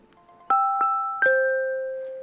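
A phone app notification chime, three quick bright bell-like tones rising in pitch, the last ringing out and decaying smoothly, clean and close with no background.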